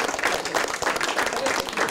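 A class of people clapping together in a room, brisk uneven handclaps forming a moderately loud, steady burst of applause without speech.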